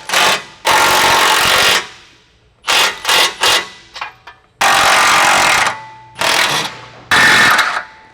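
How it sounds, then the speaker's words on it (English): Impact wrench tightening the bolts of a Recon bumper on a Nissan Frontier, loud close-range bursts of hammering rattle, several long runs and short stuttering pulses separated by pauses. "I'm going to reach in with an impact or ratchet, socket, wrench, whatever combination you want to use"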